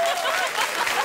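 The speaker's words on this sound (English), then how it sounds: "You can applaud now." A late-night TV talk show studio audience applauds, a close, steady wash of clapping with a faint trace of laughter.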